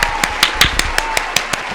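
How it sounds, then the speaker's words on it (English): A quick, even run of about ten sharp claps rings out close and loud, evenly spaced in a brisk rhythm, with a faint voice underneath. "You get a clap."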